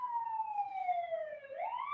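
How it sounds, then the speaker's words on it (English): An emergency vehicle siren wails with a single long tone that slides slowly downward and then rises again, sounding clear and fairly close, with no speech over it. "And now I'm having sirens."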